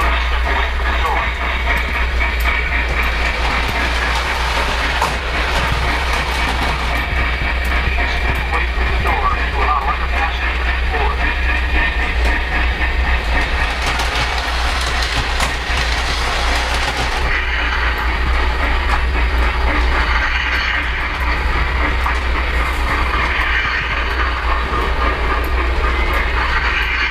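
A Polar Express model railroad trolley running with a constant low hum and rolling rail clatter, steady throughout, while a person talks over it.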